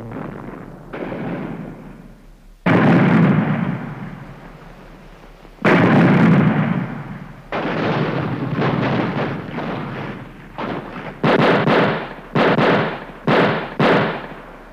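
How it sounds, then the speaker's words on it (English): Confederate artillery shelling Gettysburg as a sound effect: heavy booming blasts, some long and rumbling and others short and punchy, come in irregular bursts, loud and close, over about fifteen seconds with no voices. "Gettysburg, which was now under artillery attack from the Confederates"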